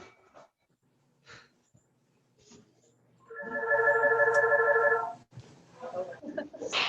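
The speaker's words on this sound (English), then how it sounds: "Somebody's phone's ringing." A phone rings with a bright, sustained electronic tone for about two seconds, clear and fairly close, during a quiet seated exercise class with faint breathing and small movements before and after.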